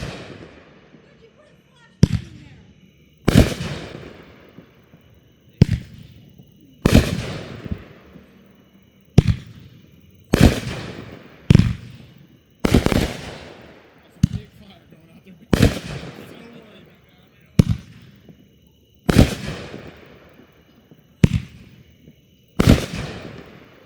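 Backyard fireworks show, a string of loud sharp explosive bangs roughly every one to two seconds, each with a short crackling decay, no voices between them.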